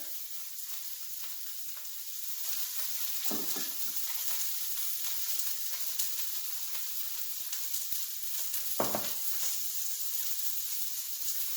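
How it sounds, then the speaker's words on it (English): Cabbage frying in a tablespoon of oil in a pan, a steady close hiss and crackle that holds for the whole stretch, with two brief louder stirs or scrapes partway through and no voice. "we'll heat another tablespoon of oil and add more cabbage to this"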